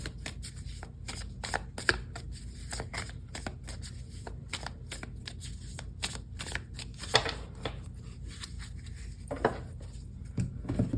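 Tarot cards are shuffled close up in a continuous run of papery riffles and soft flutters, with brief slaps as the deck is squared, lasting about eleven seconds with no voice.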